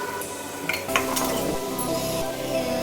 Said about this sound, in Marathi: आपण फ्राय करून घेऊया